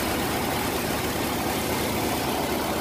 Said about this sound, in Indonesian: Ini dia untuk suara mesinnya